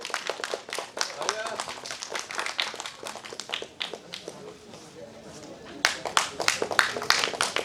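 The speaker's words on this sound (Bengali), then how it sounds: "একটি জোরে করতালি দেবেন" Audience at a theatre festival clapping in a steady, dense round of applause that carries on throughout and swells near the end, heard close with a voice briefly over it.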